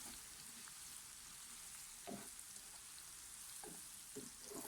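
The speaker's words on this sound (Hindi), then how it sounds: "इसके साथ ही हम अपना लहसुन डालते हैं। इसके साथ 1 मिनट और हम इनको फ्राई करेंगे।" Garlic frying with onions in a pan, a soft steady sizzle throughout with a few faint spoon scrapes, heard close and alone.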